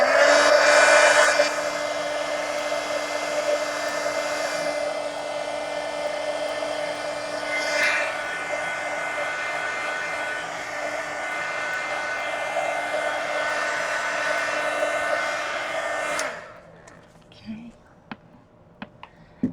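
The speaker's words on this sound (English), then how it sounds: "let me hit the whole thing with the heat gun now." A heat gun blows steadily over a mixed media art journal page, a continuous loud whirring hum with a strong tonal whine that runs for about sixteen seconds, then cuts off into quiet handling noises.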